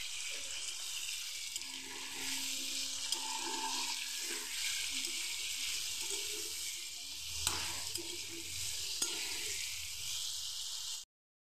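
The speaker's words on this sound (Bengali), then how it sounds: "দিয়ে দিচ্ছি অল্প কিছুটা নুন আর অল্প কিছুটা হলুদ গুঁড়ো দিয়ে আলুগুলি আমি ভালো করে ভেজে নিচ্ছি।" Potato pieces seasoned with salt and turmeric powder fry in a pan of oil for a cabbage dish, giving a steady, close hiss and sizzle with faint stirring clinks and a couple of brief knocks throughout.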